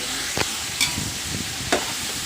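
Onions and tomatoes fry in oil in a pan for tomato rice, a steady close sizzle broken by three sharp stirring scrapes.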